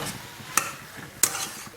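Two sharp scraping strokes of a utensil against a pan while mixing ground masala into an eggplant curry, set over a low background hiss.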